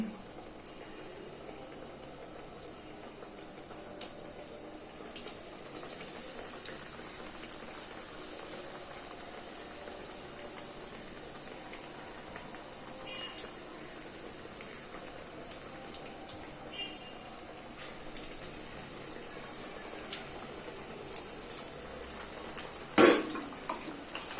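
Salted eggplant pieces frying in a pan after the onions have browned: a steady, soft sizzle that runs throughout, with a few clinks near the end.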